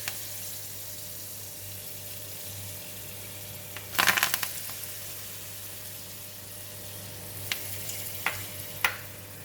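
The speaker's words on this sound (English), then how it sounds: "The oil is really very hot, so we're going to put in the curry leaf first." Curry leaves dropped into very hot oil in a pan give a burst of crackling sizzle after a quiet stretch, then a few more sharp pops over a faint steady hiss, with no talking.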